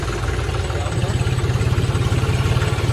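A diesel tractor engine runs close by with a steady low, throbbing chug and faint rattling, the rhythm holding even throughout.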